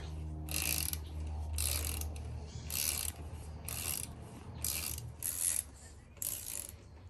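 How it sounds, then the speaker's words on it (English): A series of about seven short metallic clicks from a torque wrench tightening a mountain bike disc brake part repeat in a steady rhythm over a low background hum. "go ahead and tighten that back up until you hear the click"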